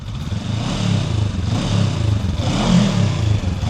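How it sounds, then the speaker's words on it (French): Honda CB500 Hornet 2024 with its 180-degree parallel-twin engine, running steadily and revving in sustained, throaty swells with no voices over it. "ça sonne comme un bicylindre en ligne calé à 180 degrés"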